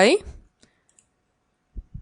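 Computer mouse clicks while working in an Excel spreadsheet, a few faint, brief, sparse clicks after a short burst of speech, with quiet gaps between them.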